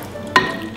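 A brief scrape of stirring in a pan as ravioli are turned through sauce with parmesan, one short soft swish over a faint sizzle.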